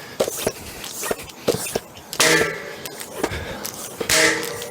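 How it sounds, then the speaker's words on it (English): A Pirelli Scorpion XC S Pro tire seats onto its rim, giving sharp pops and snaps at irregular intervals, a few louder cracks among fainter clicks and hissing air, close and fairly quiet. "that's the sound of your tire seating, the bead climbing up on the outer wall."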